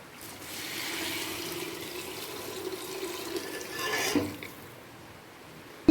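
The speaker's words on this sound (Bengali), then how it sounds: "এরপর দিয়ে দেব গরম জল" Hot water is poured into a cooking pot of rice and lentils. A steady splashing pour lasts about four seconds, then tapers off into quiet.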